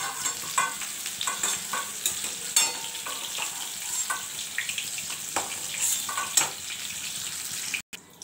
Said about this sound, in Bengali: ফুলকপি আলুটা ভালো করে ভাজা হয়ে গেছে